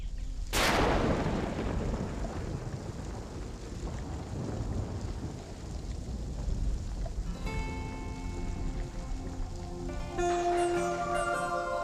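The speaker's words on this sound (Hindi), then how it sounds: "मुंबई की पहली बरसात" Mumbai's first monsoon rain pours in a steady hiss, opening with a sharp loud crack like thunder, then rain alone until music enters softly over it in the last seconds.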